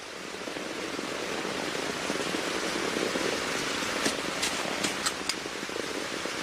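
Continuous rain hisses steadily with a low rumbling undertone, a few sharper drips or splashes standing out near the end.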